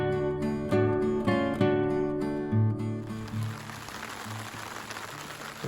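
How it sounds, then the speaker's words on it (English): Rain falls steadily outdoors, a dense, even hiss that takes over after a few seconds of tonal sound and continues to the end. "So not only is it raining"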